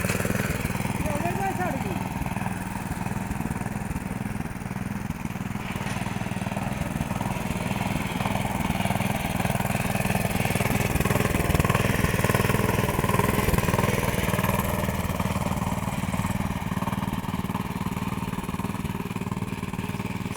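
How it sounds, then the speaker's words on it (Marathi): A small rotavator engine powering a homemade cart runs continuously, a steady mid-pitched chugging drone held at an even level throughout, close by. "लहान रोटरला गाडा बनवलेला आहे."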